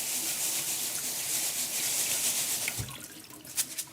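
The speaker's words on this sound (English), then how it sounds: "Then I will rinse the rice" Wild rice is rinsed under running tap water at a kitchen sink, a steady close hiss of flowing water with soft rubbing and splashing near the end, no voices.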